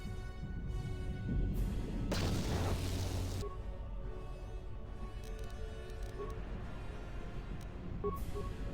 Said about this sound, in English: we're gonna chuck a grenade